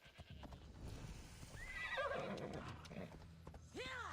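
In the video game Assassin's Creed Odyssey, a horse whinnies loudly over the rhythmic clip-clop of hooves, followed by a second shorter neigh near the end.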